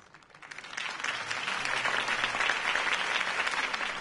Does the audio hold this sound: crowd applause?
yes